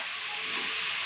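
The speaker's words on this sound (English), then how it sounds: "Now again add the remaining potatoes. Now fry it." Potatoes frying in hot oil give a steady, loud hiss that holds even and unbroken for about a second, with no talk over it.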